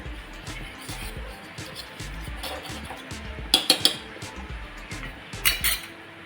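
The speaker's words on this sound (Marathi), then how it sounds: "आणि टाकल्यानंतर पण आपल्याला लगेच ढवळून सुद्धा घ्यायचं आहे" A spoon stirs fruit custard mixture in a metal pot, scraping and clinking against the sides with several sharp taps, while a voice talks over the stirring.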